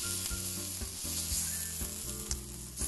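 Pork chops sizzle on a hot grill in a loud, steady, close crackle that runs throughout, with faint music underneath and no talking.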